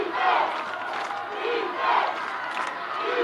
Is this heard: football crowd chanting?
yes